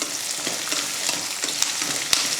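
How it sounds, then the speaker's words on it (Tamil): Chopped shallots, garlic and ginger fry in oil, a close, loud continuous sizzle with occasional clicks of a stirring spoon. "இஞ்சி எடுத்து அதையும் வெட்டி அதில் சேர்த்துடலாம் இப்போ வறுத்துடலாம்"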